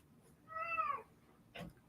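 A house cat gives a single clear, drawn-out meow in a quiet room, followed a moment later by a brief softer sound.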